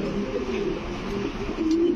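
Racer pigeons at a pigeon farm coo in low, rolling calls that overlap at close range, with one longer, louder coo near the end and no talking.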